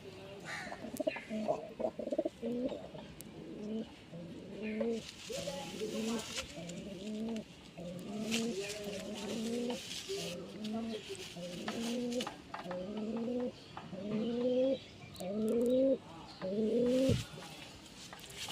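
Shakdum pigeons, a male and a female in a cage, coo in repeated rolling phrases close by, with brief voices in the background.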